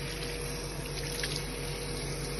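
Tap water runs steadily into a sink, rinsing soap off hands in a constant close, hissing flow with no talking.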